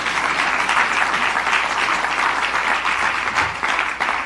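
An audience in a room gathered for the enrollment of the Respect for Marriage Act applauds, a dense, sustained wash of many hands clapping at an even level throughout.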